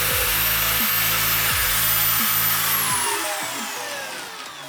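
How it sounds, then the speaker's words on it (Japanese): A handheld power router cuts a counterbore into the underside of a wooden push block base, giving a loud continuous whine with rhythmic dips as the bit moves through the wood, then spins down toward the end. "次は取っ手を一旦外してベースの方の裏面にざぐり加工していき"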